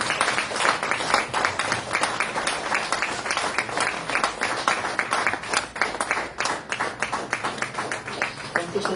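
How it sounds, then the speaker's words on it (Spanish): A church congregation gives the Lord a strong round of applause, dense and sustained clapping with a steady rhythmic pulse filling the room throughout. "Le podemos dar un fuerte aplauso al Señor."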